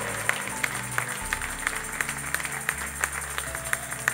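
Steady rhythmic clapping at a Spanish-language church service keeps a regular beat, about three claps per second, over background music and room noise.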